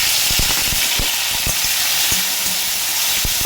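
Tomato with panch phoron, bay leaf, dried red chilli, clove and cinnamon sizzles steadily in hot oil, a close, continuous hiss broken by repeated clicks and scrapes of a spoon stirring the pan.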